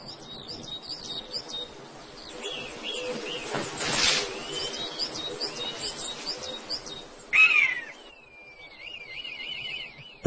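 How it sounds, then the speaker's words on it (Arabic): A red kite, a bird of prey, calls with a thin descending whistle that rises above a busy chorus of smaller birds chirping and tweeting around it at moderate distance. "طائر آخر من الطيور الجارحة يقوم بالعودة إلى موقعه، وهو الشوحة الأحمر."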